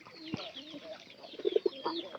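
Pigeons coo in a short burst of soft, low, repeated notes close by, with a quick knock near the start and a few higher bird sounds mixed in.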